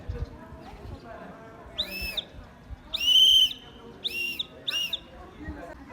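Somewhat faint whistle blasts go short, long, short, short, tapping out the Morse letter L over soft background noise.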